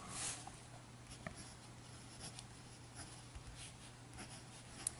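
A Kaweco Dia 2 fountain pen with a medium 14-karat gold nib writes on paper, giving faint, close scratching and soft strokes with occasional light taps over a quiet background hum.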